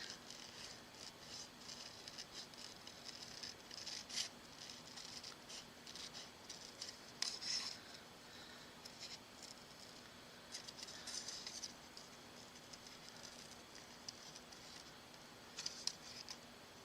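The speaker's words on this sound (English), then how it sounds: "Let me just cut this out." Scissors cutting out paper ephemera for journal cards, a faint, soft series of snips and light paper rustles spread over a quiet room with low steady hum.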